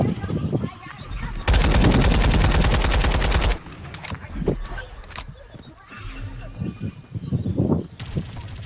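Rapid automatic gunfire in the Farlight 84 video game: a loud, dense burst of evenly spaced shots that lasts about two seconds, set between quieter game sounds and scattered noises.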